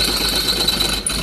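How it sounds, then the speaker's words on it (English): A steady, high-pitched mechanical whine of a drill grinding through oiled stainless steel, loud and continuous, briefly dipping near the end. "when drilling stainless steel"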